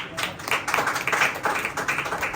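Hand clapping in a Tamil Christian sermon setting, a steady run of crisp claps lasting a couple of seconds, moderately loud and close.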